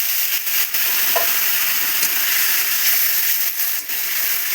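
A spice paste for a fish curry with brinjal sizzles loudly and steadily in hot oil as water goes in, a dense continuous hiss with a few faint clicks, close and with no talk.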